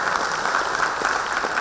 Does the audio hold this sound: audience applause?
yes